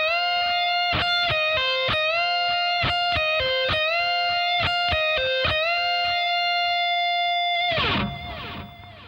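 Distorted electric guitar plays a four-note lick, repeated with sharp picked attacks, pull-offs and a held bend at the end, loud and close with no talk.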